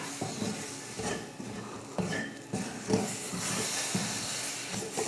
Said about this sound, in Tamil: இப்போ இதையும் அந்த எண்ணெயில் வதக்கிக்கலாம்.